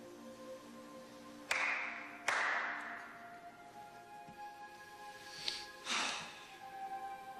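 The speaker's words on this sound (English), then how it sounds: "Clap twice." Two sharp hand claps about a second apart, loud and close against a quiet background with a faint hum, followed by softer indistinct sounds.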